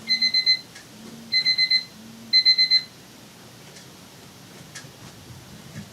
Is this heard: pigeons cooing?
no